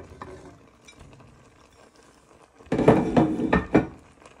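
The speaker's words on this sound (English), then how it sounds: "with your wooden spoon, you just want to give them a gentle stir in so they get nicely coated into all the broth and noodles" Wooden spoon stirring Thai meatballs and noodles in a pot of broth, a soft quiet start giving way to a louder burst of scraping and clunking knocks against the pot over the last couple of seconds.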